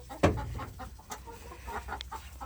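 A single chicken clucks briefly near the start, then quieter farmyard clucking and rustling continue faintly in the background.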